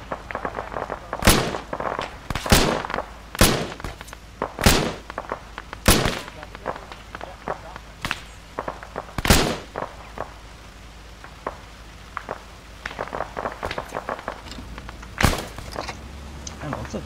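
Sharp, loud gunshots in a video game, fired singly and in short bursts at irregular intervals, with players talking in between.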